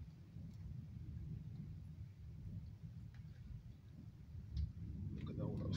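Thunder from an outdoor thunderstorm rolls as a low, sustained rumble throughout, fairly distant and soft, with faint rain-like hiss and a brief louder swell near the end.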